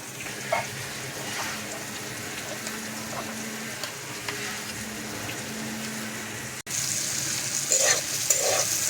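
Sliced bitter gourd frying in oil in a pan, a steady moderate sizzle with a faint hum in the background, briefly cut by a sharp click before the frying grows a little louder.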